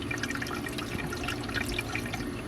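Plain water pours from a container into the windshield washer reservoir of a 2020 Tesla Model Y, a continuous close splashing gurgle with no talking.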